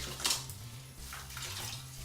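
A caulking sponge is dunked and swished in a bucket of water to clear off excess caulk, giving a close, soft watery slosh with a brief sharper splash near the start.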